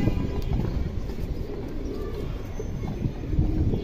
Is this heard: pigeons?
yes